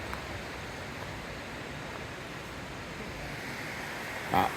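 A river flows below a hilltop campsite in the 100 Mile Wilderness on the Appalachian Trail, giving a steady, even rushing wash that is fairly faint and unbroken, with a brief knock near the end and no talk.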